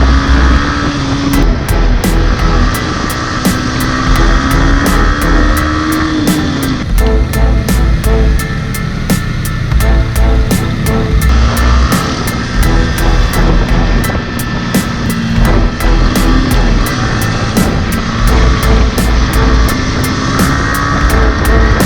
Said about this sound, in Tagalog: Sarap pakinggan ng tunog ng engine brake.